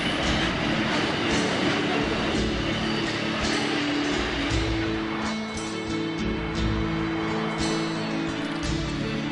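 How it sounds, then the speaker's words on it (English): A freight train rumbles past Woy Woy Railway Station steadily, wheels clattering and metal squealing faintly, a continuous loud roar throughout. "Another freight train heading off to Brisbane."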